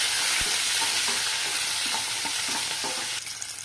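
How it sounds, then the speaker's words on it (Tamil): Shallots, garlic and curry leaves sautéing in a pan for a prawn gravy, with a loud, dense sizzle and repeated spatula scrapes and clicks against the metal, close up with no talking. "பூண்டு ஒரு 7-8 பல் நல்லா வதக்கிக்கலாம்."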